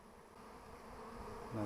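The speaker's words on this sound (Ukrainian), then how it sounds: "Бджілки сидять, десь всередині вже там матка у них." A swarm of bees clusters along a tree trunk, giving off a continuous, low, even hum close by that grows slightly louder toward the end, with no speech.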